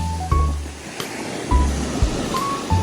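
Waves wash in and break over a steady rush of surf, several surges arriving every second or so, close and fairly loud with no voices.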